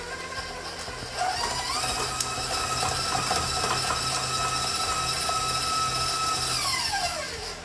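Electric mixer whipping butter and cream cheese together for pumpkin whoopie pie batter, a steady whirring motor hum that runs throughout with a faint scraping rattle in the bowl and no talking.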